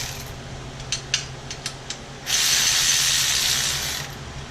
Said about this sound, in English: you can use either the ratchet